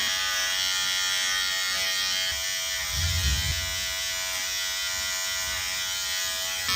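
A cheap electric hair trimmer from Amazon buzzes loudly and steadily at close range. The hum changes briefly partway through, as if the trimmer touches hair.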